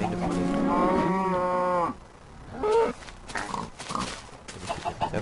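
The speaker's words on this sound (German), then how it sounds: "Und dann töte ich jetzt noch eine von den Kühen." Cows in the Minecraft video game give loud, close mooing calls, one long drawn-out moo followed by shorter low calls, with faint game noise between them.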